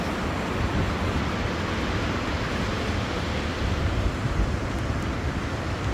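The Potomac River's Great Falls in Virginia, a loud, dense and steady roar of rushing water without pause, heard close and alone with no talk over it.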